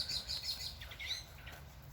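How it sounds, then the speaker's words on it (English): Birds chirp and tweet outdoors in a busy, overlapping chorus of short high calls, moderately loud, with steady low background rumble and no talking. "Birds are loud."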